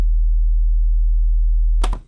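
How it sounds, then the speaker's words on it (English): A generated 40 Hz sine wave test tone, a steady, very deep pure hum held loud for nearly two seconds before breaking off abruptly into a brief burst of noise at the end. "I have a sine wave that I generated at 40 Hertz"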